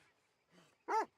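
A dog in a video game gives a short, faint whine followed by a sharper, louder yelp, with quiet rustling in between and no talk.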